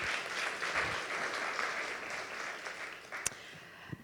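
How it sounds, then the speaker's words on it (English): Audience applause at a startup pitch showcase in Vienna, a broad steady wash of many hands clapping that gradually thins out, with a sharp knock near the end. "Let's have a round of applause."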